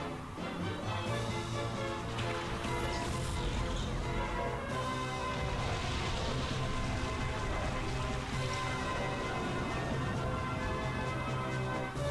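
A steady wash of rain plays as a weather effect in the Pokemon Colosseum battle, continuous and fairly loud throughout, mixed with the game's bright melodic music.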